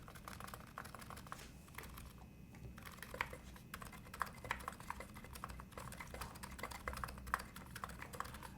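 Typing on an electro capacitive keyboard set to silent mode, a quiet, continuous patter of muted keystrokes with occasional slightly sharper clicks, close by and alone.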